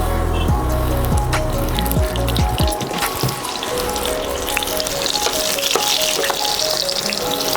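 Tomatoes frying in a pan with cumin seeds, a steady loud sizzle that carries on throughout, with a few clattering knocks near the start.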